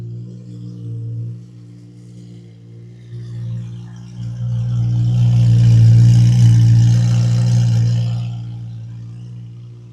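A Chevrolet Corvette C8 Z06 fitted with a titanium catback exhaust and titanium cat deletes idles with a deep steady rumble that swells louder midway then eases back, close and alone.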